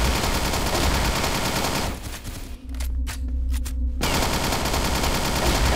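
A UMP 45 submachine gun in the online shooter CrossFire fires in dense sustained bursts, loud and close, briefly breaking into a few separate shots before the rapid fire resumes.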